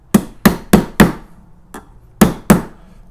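A knife spine hammers small brad tack nails into wood: seven sharp, close metallic-wooden strikes at an uneven pace, the fifth noticeably lighter, with quiet gaps between them.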